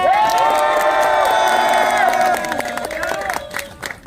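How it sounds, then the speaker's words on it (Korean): A crowd at a political rally on a university campus applauds and cheers loudly for an incoming speaker, with whoops and shouts over dense clapping that eases off toward the end. "큰 박수 부탁드립니다."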